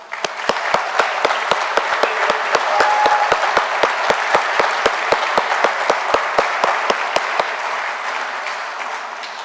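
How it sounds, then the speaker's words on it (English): An audience at the Conner Prairie 2019 annual meeting applauds steadily, a dense wash of clapping punctuated by regular sharp, prominent claps near the recording, holding for several seconds before easing slightly. "So can I let everyone give a big round of applause for Conner Prairie?"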